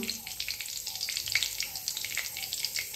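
Cumin seeds sizzling in hot oil for a home-style chicken curry, a quiet crackle of small pops and spits scattered irregularly over a soft background hiss, close by and with no voices.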